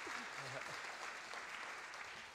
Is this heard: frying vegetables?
no